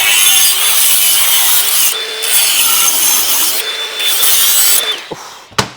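An angle grinder cuts through a motorcycle exhaust pipe close up, a loud sustained metallic grinding with a high whine that swells and eases, then cuts off with a couple of sharp knocks.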